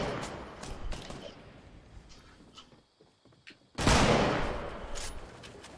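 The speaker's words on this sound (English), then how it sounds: "Oh, I'm getting shot." Gunfire in the Fortnite video game, bursts of rapid shots that thin out briefly and then return in a loud, dense volley, with no speech over it.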